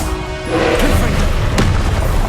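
A Confringo fire spell exploding in the game Hogwarts Legacy, a loud, booming blast with a rolling, crackling tail, close and dominant throughout.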